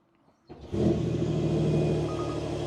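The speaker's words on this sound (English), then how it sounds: "if I just start the car," A Porsche 911 GTS T-Hybrid of the 992 generation starts up, a quiet click followed by the engine catching and settling into a loud, steady idle rumble close by.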